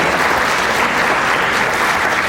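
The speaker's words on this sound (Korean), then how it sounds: "박수 보내주시면 감사하겠습니다." Wedding guests at a convention hall in Incheon applaud together, a loud, dense, continuous roll of clapping close by, steady throughout with no talking.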